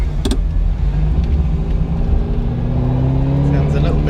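Ferrari Enzo engine running with an adjusted fuel mixture, a loud steady drone with a slowly rising tone, heard from inside the car with speech over it.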